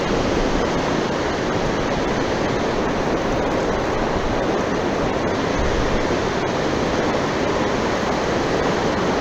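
Fast-flowing river water on a salmon and steelhead river rushes in a steady, loud, unbroken roar, close by and without any voices.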